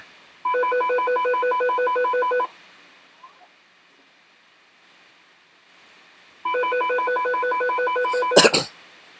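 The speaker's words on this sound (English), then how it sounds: "there's a phone ringing" A telephone rings in two clear, evenly spaced bursts of rapid trilling bell tone about two seconds each, separated by a quiet pause, ending with a sharp clatter as it is picked up.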